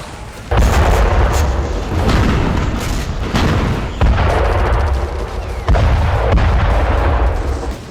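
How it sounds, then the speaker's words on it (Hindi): During an attack on an army vehicle in Ramallah, loud, close blasts and gunfire crack and boom in repeated heavy bursts with short pauses between them, echoing in the street. "इस दौरान कई धमाके और गोलीबारी की आवाज सुनाई देती है"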